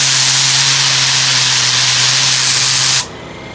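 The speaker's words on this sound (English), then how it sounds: "I have the air compressor literally at full blast, so I think I have it at 180 PSI" A KJM air tool driven by a Ridgid 4.5 compressor at 180 PSI gives a loud, steady rushing hiss with a low hum for three seconds, then cuts off abruptly to a faint residual hiss.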